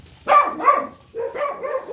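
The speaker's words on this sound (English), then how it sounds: "There's my dogs, by the way." Several dogs bark close by in two quick bursts, sharp overlapping yaps with a short gap between them, loud and clear in an indoor workshop where cabinet doors are being built.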